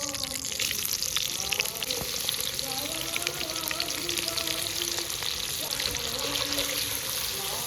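Cumin, bay leaf and onion frying in mustard oil for a meat curry cooked at a picnic; a steady, close sizzle runs throughout with light stirring scrapes.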